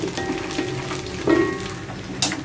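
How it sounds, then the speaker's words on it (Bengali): Whole garlic cloves, dried chillies, garam masala and bay leaf fry in hot oil with a steady, soft sizzle and occasional small pops, close up and alone. "এটা দিয়ে একটু হালকা ভেজে নিব।"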